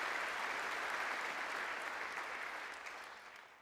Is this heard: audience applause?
yes